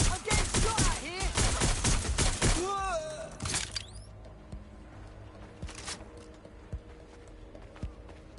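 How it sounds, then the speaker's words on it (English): Gunfire in Watch Dogs Legion: a dense burst of rapid shots and impacts mixed with voices for about three seconds, then a sharp crack and scattered faint pops over a quieter ambient background. "I'm getting shot at here"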